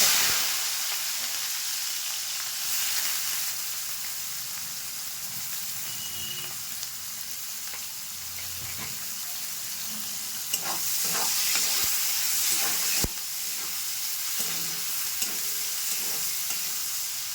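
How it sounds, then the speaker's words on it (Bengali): Onions with whole spices frying in hot oil in a pan after potatoes, a continuous soft sizzle with occasional stirring scrapes and a couple of sharp utensil taps. "পেঁয়াজটা ভাজা হয়ে গেছে"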